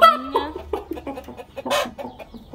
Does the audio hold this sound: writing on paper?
no